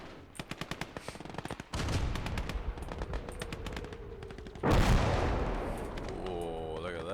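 Machine gun fire crackles through a Call to Arms: Gates of Hell battle, starting with a rapid run of sharp bursts, then thickening into dense continuous gunfire with a heavy blast near the end.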